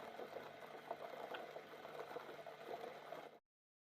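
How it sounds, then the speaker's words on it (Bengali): Sugar syrup for rasmalai bubbling at a steady boil in a pot, a continuous close, soft rumbling fizz with small pops that cuts off abruptly near the end. "আমার চিনির রস ফুটে গেছে"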